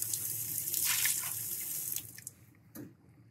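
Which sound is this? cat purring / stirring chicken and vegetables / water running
water running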